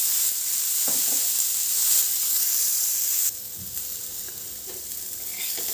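A hot iron tawa with a few drops of oil sizzles continuously as a tur-bean ghugri patty fries, a steady close hiss that drops slightly in level partway, with faint clinks and no talking.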